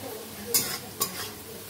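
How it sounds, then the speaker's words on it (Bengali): Onions frying in a pan and being stirred until browned, with a low steady sizzle broken by two sharp scrapes of a utensil against the pan. "পেঁয়াজটা একদম লাল করে ভাজা হয়ে গেছে"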